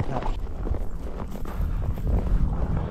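Horse hooves walk along a wooded trail in Idaho, a close, uneven series of soft clops over light wind noise.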